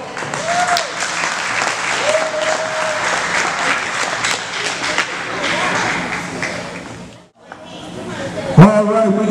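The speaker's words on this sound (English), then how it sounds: "Ladies and gentlemen, let's give them a round of applause" Crowd at a county recreation sports banquet giving a round of applause for champion players, loud sustained clapping with cheers and a whistle, then a brief pause before clapping and voices resume.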